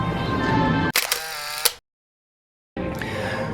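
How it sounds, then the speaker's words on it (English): A camera snaps a selfie in front of the Orlando sign at Universal Orlando: a brief mechanical shutter click over outdoor crowd noise, then sudden silence before the ambience returns. "We have to take an obligatory selfie in front of the Orlando sign."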